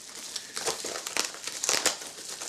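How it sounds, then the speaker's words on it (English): Bubble wrap being pulled off an official Wii LAN adapter, close, crisp crinkling and crackling in quick irregular bursts with no talking. "Let me just unwrap this bubble shit here."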